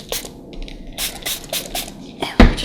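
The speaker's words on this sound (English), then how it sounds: "So we're just gonna spray your hands just a little bit more." A spray bottle mists soap onto hands during a manicure in several short, close hissing bursts spaced irregularly, followed by a louder rubbing thump near the end.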